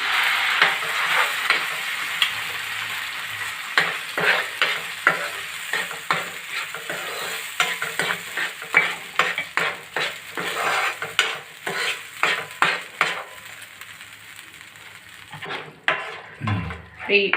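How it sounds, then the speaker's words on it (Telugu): Onion, tomato and cashew masala paste frying in a pan, with steady sizzling and repeated scraping of a spoon stirring it, loud and close. Near the end the stirring stops and a brief clatter follows. "పేస్ట్ వేగుతున్నప్పుడే కొంచెం పసుపు వేస్తున్నానండి"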